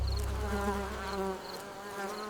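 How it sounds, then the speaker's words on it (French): A cartoon bee in a French nursery rhyme buzzes softly and steadily under light music, a thin continuous insect drone that stays even across the short clip. "L'abeille bourdonnait doucement en chantant."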